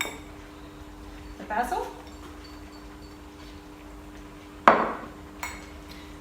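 A spoon stirring basil into a pot of beetroot risotto gives a few distinct clinks and scrapes against the pot, one louder knock near the end, while a person talks quietly.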